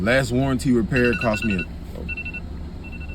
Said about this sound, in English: that's my alarm to get for me. It's time to get up.